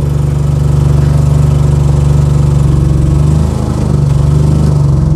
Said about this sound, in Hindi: बस कितनी आवाज़ होती है, बस ज़्यादा आवाज़ नहीं होती है।